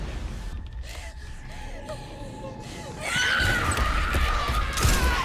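A shrill scream erupts in a Resident Evil video game, loud and sustained over heavy game noise, preceded by quieter gasping sounds.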